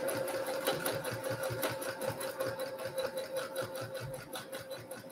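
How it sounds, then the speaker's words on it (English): A domestic sewing machine doing free motion quilting runs at a steady, fast needle rhythm. It is close and fairly quiet, and the whirring, pulsing stitching continues throughout without talk. "I have done an entire queen size quilt on this domestic machine that you see right here"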